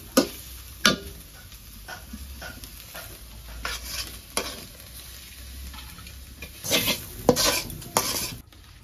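A utensil stirs and mixes ingredients in a metal cooking pan while a goat meat and papaya dish is made in a village home kitchen. Scattered scraping clinks and taps come close by, with a louder flurry near the end.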